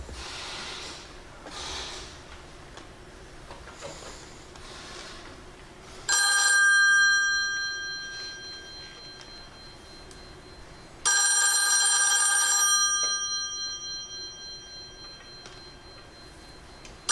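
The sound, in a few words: pink telephone ringing after being dialed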